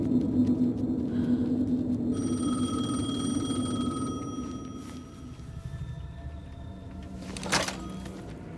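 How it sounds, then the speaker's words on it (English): A payphone rings in Alan Wake 2 with a high, buzzing electronic tone that repeats over a low droning ambience, heard alone with no speech. "The payphone was ringing."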